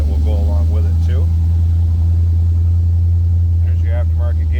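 A 1973 Pontiac Ventura with a fuel-injected engine runs with a loud, steady low rumble throughout, close by, while someone talks over it intermittently.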